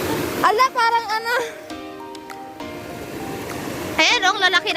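Big ocean waves surge at Dinadiawan beach in Aurora, a steady broadband wash of surf running beneath excited shouting and children's voices that come and go.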